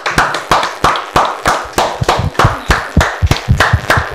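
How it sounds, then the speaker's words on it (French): Audience clapping in sharp, loud, near unison beats, about three claps a second in a steady rhythm, with no talk over it. "ça s'applaudit s'il vous plaît"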